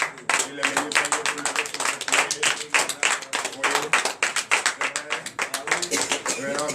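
Congregation at a morning prayer service bursting into vigorous, sustained clapping and acclaim, a dense run of rapid hand claps filling the space from start to end with voices mixed in.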